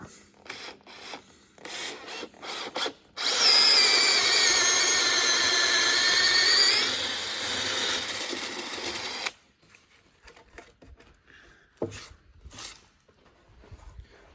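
A power drill bores through an oak post for a mortise and tenon peg. The motor whines loudly and steadily for about six seconds, with a shift in pitch partway through, between quieter handling knocks and taps before and after.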